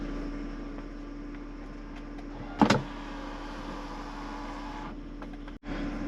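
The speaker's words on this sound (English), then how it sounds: "Oh, fancy, this has the automatic shade." In a BMW E90 328i cabin, the automatic sun shade motor gives a soft, steady electric whir with a faint hum. A brief click comes partway through, and the motor then stops near the end.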